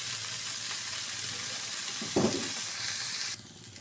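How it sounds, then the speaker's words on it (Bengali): Mola fish heads frying in oil in a pan, a steady close sizzle with a brief louder spatter midway before the hiss drops back, no voices. "মলা মাছের মাথাটা দিয়ে তেলটা একটু দিয়ে ভেজে নেব।"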